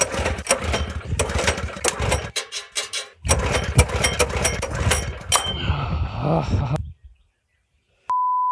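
A sod cutter engine is cranked and catches, rattling loudly and unevenly with a brief pause before it runs, then cuts off abruptly into silence followed by a steady electronic tone.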